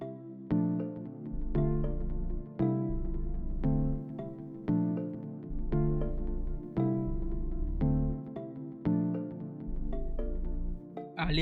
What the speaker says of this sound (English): I used Morphine. And the name of the preset is KBD Soft Key NUC.